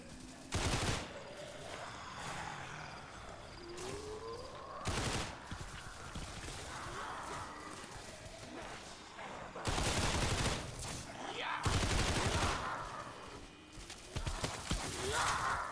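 Gunfire in the Roblox zombie game Zombie Recoil: several short, sharp bursts of automatic fire over a low, busy game background, moderately loud and spaced irregularly.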